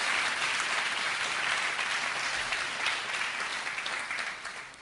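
A church congregation applauds, dense sustained clapping from many hands filling the room before tapering slightly at the end.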